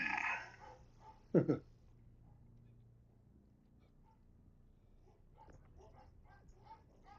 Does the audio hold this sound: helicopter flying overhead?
no